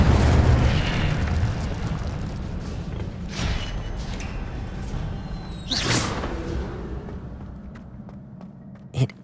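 The Incendio fire spell in Hogwarts Legacy erupts with booming, whooshing bursts of flame over a rumbling low roar, a couple of sharper blasts standing out before fading into a faint crackle.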